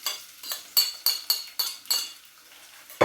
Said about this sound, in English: And I'm going to add my chopped white onion to the pot.